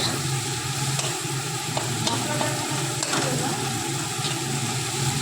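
Onion and garlic fry in oil in a pan while being stirred, producing a loud, unbroken sizzle with occasional scraping strokes of the spoon, close up and with no speech over it.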